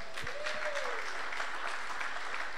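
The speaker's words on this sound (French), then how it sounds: "Est-ce que nous pouvons applaudir les papas parce qu'ils ont amené les enfants à Liège?" A church congregation applauds, a soft, steady patter of many hands clapping from across the room, continuous and even in level with a faint background murmur.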